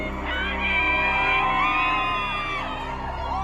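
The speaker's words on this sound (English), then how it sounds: "Outside the Virginia courthouse, Depp fans gather to cheer on their hero." A crowd of fans gathered outside a Virginia courthouse cheering, with overlapping whoops, yells and sustained shouting voices forming a loud, continuous din.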